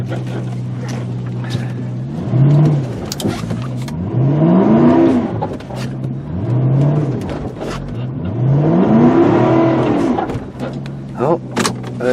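A car with something loose in the front runs while being parked in a yard, its engine rising and falling in slow revs at close range, with people talking over it.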